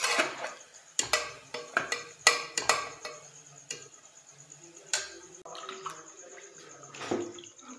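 Raw mutton pieces being washed in water in a pot for biryani: splashing, sloshing and clattering bursts come in irregular clusters close by, with no talk.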